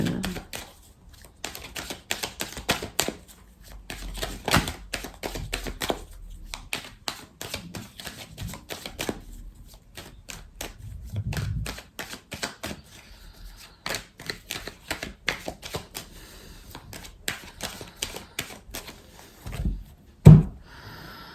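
Oracle cards from a mirror oracle deck are shuffled and cut close up, giving a long run of quick papery flicks and riffling clicks in uneven bursts, with a sharper snap near the end and no talking.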